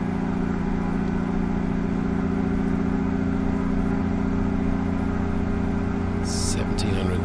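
A Cummins ISX EGR truck engine in American Truck Simulator holds a steady, loud, low droning hum throughout, held in one gear with little change in pitch, with a brief click near the end.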